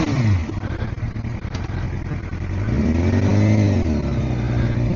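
Suzuki GSX-R 600 supersport motorcycle revving and accelerating along a long road, engine note climbing and falling in pitch, loud and close with wind rush.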